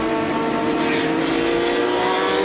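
GT race cars at Road Atlanta roar past in an International GT race, engines loud and sustained at high revs with no break, one car's pitch shifting as it passes nearby.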